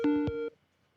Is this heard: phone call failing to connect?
yes